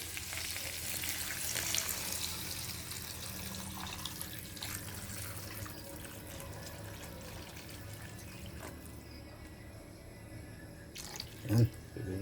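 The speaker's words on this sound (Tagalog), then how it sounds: "Mag-add na tayo ng tubig mga idol." Water pours and splashes into a cooking pot of fish as a steady, broad rushing wash with faint sizzling, ending in a couple of clanks.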